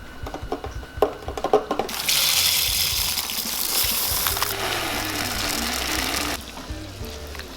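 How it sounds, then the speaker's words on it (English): Broth poured into a pot of lentil soup, a steady rushing gush of liquid that runs for several seconds after some short clatters and handling noises, close by with no talking. "Okay, so I'm gonna add the broth right now."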